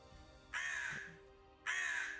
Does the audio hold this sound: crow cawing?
yes